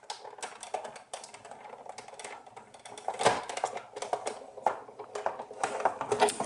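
A manual embossing and die-cutting machine cranked with a cutting plate for card making, giving close, irregular clicks and ratcheting that grow louder and denser toward the end.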